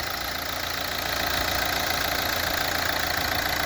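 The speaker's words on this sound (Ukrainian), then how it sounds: "просто мурчить двигун." A 2012 Renault Megane III GT-line 1.5 diesel engine idles steadily with a low, even rumble and faint rattle, running continuously with no voices.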